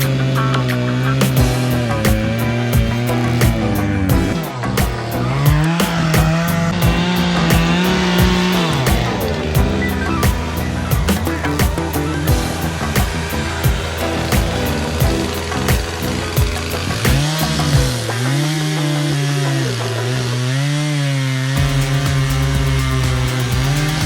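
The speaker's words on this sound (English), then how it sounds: "Pippin wasn't a fan of the chainsaw noise." Chainsaw cutting logs for firewood at a camp, its loud engine running continuously and rising and falling in pitch as it bites through the wood, close by throughout.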